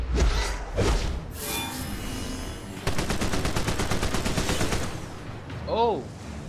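A minigun in DC Universe Online spins up and fires a fast, evenly spaced burst of rattling shots lasting a couple of seconds, preceded by heavy thuds and whooshes of combat effects and followed by a rising chime.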